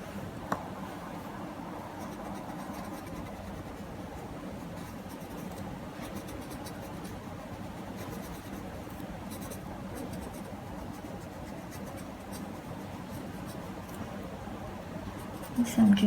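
Pencil shading on paper for a Zentangle drawing makes a soft, steady scratchy rubbing that runs continuously at low level while a person talks.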